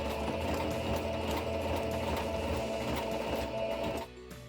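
A sewing machine runs steadily while it stitches a seam on jeans that are being made into a skirt. The whirring motor drone is close and continuous, then it slows and stops near the end.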